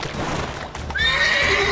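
A frightened horse in The Witcher 3 video game gives a loud, close whinny that rises into a long, shrill neigh, with hoof clip-clop and game noise underneath.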